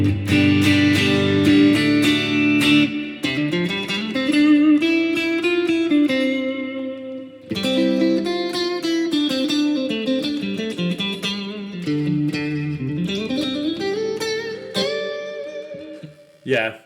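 Clean electric guitar played through a Quad Cortex modelling the Mesa Boogie Lone Star Clean 100-watt amp on its normal channel, ringing chords and melodic lines in two phrases, loud and close, without talk.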